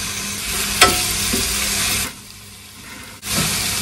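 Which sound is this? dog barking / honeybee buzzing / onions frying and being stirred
onions frying and being stirred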